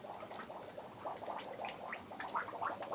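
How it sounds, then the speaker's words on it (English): Water bubbling and gurgling in a flooded basement, a continuous burbling with frequent small pops, faint and steady for three seconds. "I hear bubbles."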